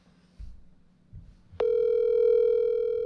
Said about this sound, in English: He did say that he wanted to Call Graham on speaker